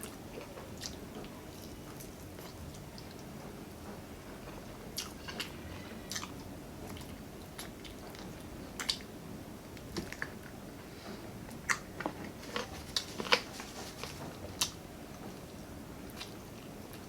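Crispy fried chicken from McDonald's being chewed close up, with soft wet bites and a few sharper crunchy snaps scattered through a quiet, steady stretch of eating.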